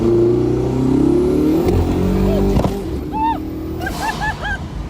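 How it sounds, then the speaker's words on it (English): A car engine revs, lets out a sharp pop, then a rising whistle and chirping flutter as the turbo spools, loud and close. "There was that massive pop, and then you hear the turbos."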